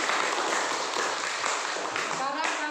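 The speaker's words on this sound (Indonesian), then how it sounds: "Kasih aplaus dulu buat kelompok 2." Steady applause from a class for group 2 after their presentation, a dense even patter of many hands clapping close by, with no pauses throughout.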